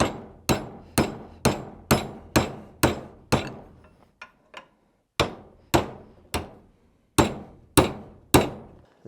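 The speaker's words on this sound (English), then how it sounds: "Take a small hammer and some round bar and try to" A small hammer strikes a round bar on a scrap truck under repair, giving a steady run of sharp, ringing metallic blows close by, with a short pause midway before the hammering resumes.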